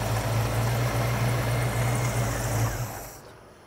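A classic car engine running rough, a steady, rumbling idle with a low uneven throb, running continuously before cutting off near the end.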